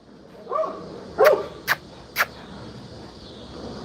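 Puppy barking indoors, a few sharp yips and barks in quick succession, moderately close, with faint whimpering noises before them and a quiet background.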